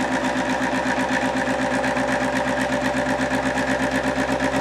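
A Bedini magnetic motor prototype spins back up to speed, a steady, loud, close mechanical whir with a fast, even rhythmic pulsing and a faint high hum, no voices.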